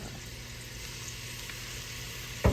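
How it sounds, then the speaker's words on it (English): Ground meat sizzles in a hot pan with a soft, even hiss that holds throughout, ending on a brief louder clatter; no talking. "Got my pan heating up over here. What we're going to do, we're going to put our ground meat in here."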